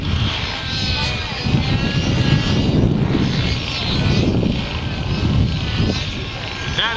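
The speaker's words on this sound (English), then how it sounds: "That is about a 9cc motor on board there, and it is working its can off to keep that helicopter airborne." A radio-controlled model helicopter with a 9cc motor flies overhead, its engine droning steadily and straining throughout with swelling rises and falls in loudness, while voices talk faintly underneath.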